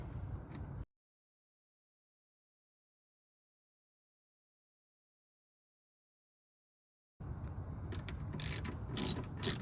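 A ratchet clicks in short bursts while driving the four tail light bolts on a Toyota Corolla Cross, heard near and alone at the start, then silence, then a longer stretch of rapid ratcheting with a few louder metallic clicks.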